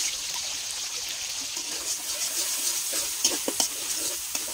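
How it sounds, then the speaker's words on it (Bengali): Sliced onion and green chilies fry in hot oil in a wok, a steady close hiss of sizzling with a few brief stirring clicks near the end, no voices. "এখন পেঁয়াজ আর কাঁচামরিচ ফালি তেলের মধ্যে ভেজে নেব"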